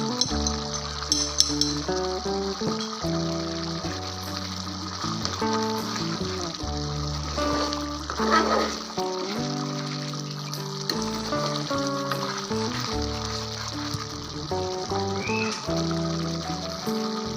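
Butter sizzles and fries steadily in a pot of green chicken hari bhari handi, a continuous hiss with occasional clinks of utensils, close and even throughout, with no talking.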